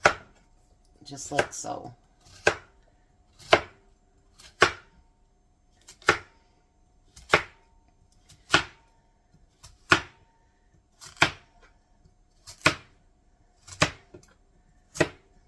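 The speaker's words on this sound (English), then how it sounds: "So now what I'm going to do is chop those into slices," A knife chops yellow squash into slices on a cutting board, about a dozen crisp, evenly spaced strikes, with brief quiet speech near the start.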